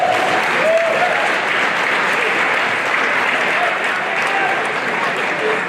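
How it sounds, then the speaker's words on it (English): Banquet crowd at a hall of fame dinner gives a round of applause for the fall clinic chair, Wendell Bean, a loud, sustained, even roar of clapping from a full room, with faint voices blended in. "a round of applause for our fall clinic chair"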